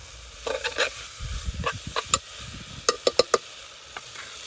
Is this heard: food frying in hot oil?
yes